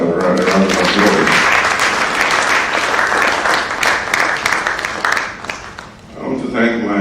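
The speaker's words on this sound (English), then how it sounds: "I think we can give all of us a round of applause." Sustained applause from an audience at the close of a lecture presentation, dense and loud throughout, thinning briefly near the end, with a voice talking over it at the start and again in the final moments.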